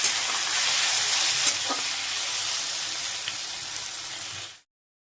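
Potatoes fry in a pan in a home kitchen, giving a loud, continuous close-up sizzle with faint crackles throughout that stops abruptly just before the end.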